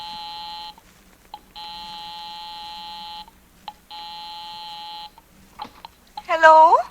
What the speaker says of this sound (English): I'll give 9B a ring first on the house phone.